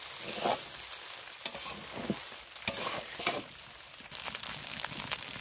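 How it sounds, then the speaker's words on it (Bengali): Fried rice salted and stirred as it fries in a pan, a soft continuous sizzle broken by irregular scraping and tossing strokes of a spatula, close and fairly quiet, with no voices. "দিয়ে দিলাম আমি এর মধ্যে লবণ দিয়েও ভালো করে একটু নেড়ে চেড়ে ভেজে নেব"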